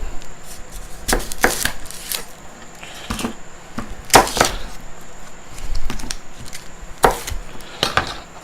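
Knife chopping through a large onion on a cutting board while making chicken stock: a handful of sharp, separate knocks spread irregularly, close and fairly loud, with no talking.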